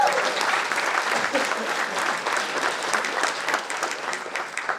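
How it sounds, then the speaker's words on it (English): An audience at the Gymkhana GRiD 2019 press conference applauds drifter Daigo Saito, a dense, steady wash of clapping that stays fairly even throughout with some voices underneath. "Round of applause for Daigo Saito."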